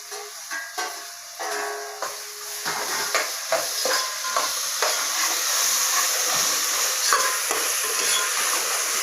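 Ginger garlic paste, tomato, coriander and curry leaves frying in a pan for veg biryani, a steady close hiss and sizzle with repeated scraping stirs through the whole stretch.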